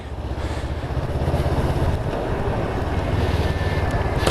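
A 2019 Honda CBR500R motorcycle engine runs steadily up close, giving a continuous low throbbing rumble with some wind noise over the whole stretch.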